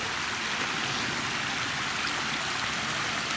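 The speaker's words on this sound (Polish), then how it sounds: "tutaj jest przełom potoku" A mountain stream rushes through a rocky gorge in a forested range, a steady, close, full-bodied roar of flowing water with no voices.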